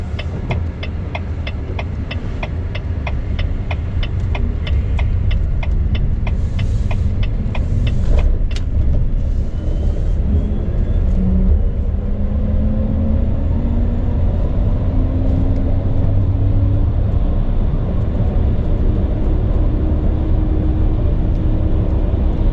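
Trucks pass on the road outside while riding in a Volvo VNR electric truck, heard as a broad, loud rumble of road noise and engines that swells and fades, with a steady low drone throughout.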